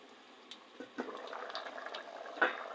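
Watery curry for a soya chunk and meat dish bubbling as it comes to a boil, a soft, steady low simmer with a few small pops and gurgles, close and fairly quiet, with no talking.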